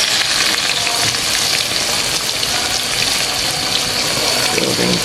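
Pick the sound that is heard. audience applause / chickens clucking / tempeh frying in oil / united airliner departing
tempeh frying in oil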